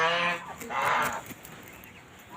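Geese and muscovy ducks in a crowded farm pen give loud honking calls, two strong bursts near the start, followed by quieter farmyard background.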